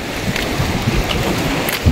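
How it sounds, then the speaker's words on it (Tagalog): Strong outdoor wind buffets the microphone with a continuous, loud, rough rushing roar and brief gusty peaks, with no talking. "Hangin kayo guys"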